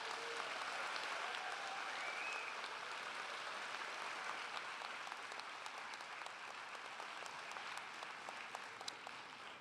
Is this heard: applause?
yes